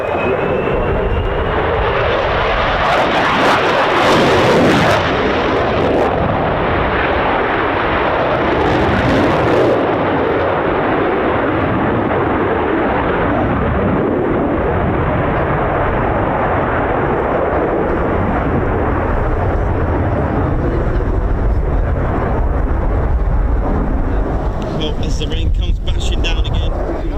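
Finnish Air Force F/A-18C Hornet fighter jets roar loud and continuous, the thunderous engine noise swelling and fading with people talking over it.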